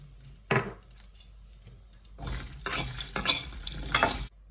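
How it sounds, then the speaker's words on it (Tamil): Tamarind, small shallots and grated coconut get stirred in a hot pan for a Tamil-style pirandai chutney: a single scrape and clatter, then a steady sizzle with repeated spoon scrapes and knocks, close and fairly loud. "இதெல்லாம் நல்லா வதங்கணும்"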